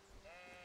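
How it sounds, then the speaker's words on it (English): A single short sheep bleat in Kingdom Come: Deliverance, clear and close, with a wavering tone. "Sheep!"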